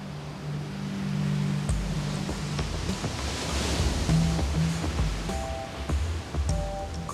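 Ocean waves break and wash over dark volcanic rocks on a Cape Verde island coast, heard as a steady, broad roaring surf that swells and recedes, with faint tonal sounds drifting over it.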